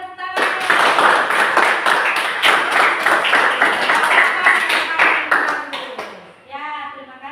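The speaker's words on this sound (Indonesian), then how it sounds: "semua tepuk tangan" A class of students in Indonesia claps together in sustained, dense applause for about six seconds, then it fades out and a voice follows.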